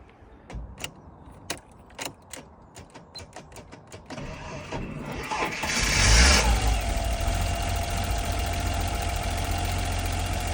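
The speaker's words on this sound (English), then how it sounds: "As you can see there guys, the E34 is struggling to start." A BMW E34 525i with a suspected sticky starter solenoid clicks and cranks repeatedly in short bursts. It finally catches with a loud surge, then settles into a steady idle.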